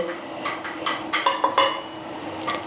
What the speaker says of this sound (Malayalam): നന്നായി ഞാൻ ഇളക്കി ചേർക്കുന്നുണ്ട്